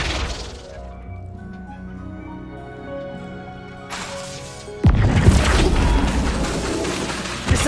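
The Flipendo spell is cast in Hogwarts Legacy on PS5: orchestral score plays softly, then a sudden loud crashing burst erupts and stays as a thick, roaring rush of noise.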